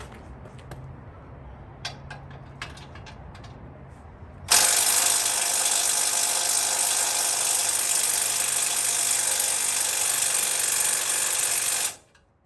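A power tool drives a 14 mm socket on an extension during a bumper and winch install on a fifth-generation 4Runner, a loud sustained mechanical buzz starting abruptly after a few faint clicks and stopping sharply near the end.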